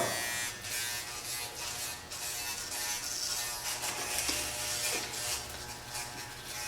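An electric hair clipper cutting hair for a taper fade buzzes steadily and close up, with slight shifts in pitch as it moves over the head, and no voices over it.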